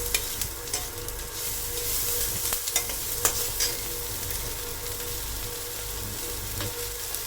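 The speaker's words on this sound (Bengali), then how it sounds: "পেঁয়াজটাকে তাড়াতাড়ি ভাজা করার জন্য" Chopped onions with ginger paste fry in a hot pan for an egg curry and are stirred now and then. A steady, fairly loud crackling sizzle runs throughout, broken by a few sharp scraping clicks from the spoon. No one speaks.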